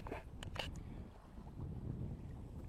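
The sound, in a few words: sailboat under sail with engine off, wind and water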